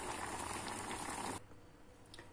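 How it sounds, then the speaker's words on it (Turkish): Vegetables boil in a pot of water with a steady, dense bubbling hiss that cuts off abruptly partway through, leaving a faint low background. "sebzelerimiz haşlanıyor"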